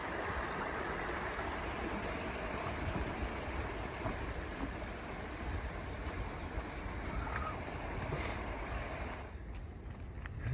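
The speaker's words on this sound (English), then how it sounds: "this is Stover Creek" Stover Creek flows along the Appalachian Trail in a steady, close rush of running water that stays even and continuous throughout, with no voices.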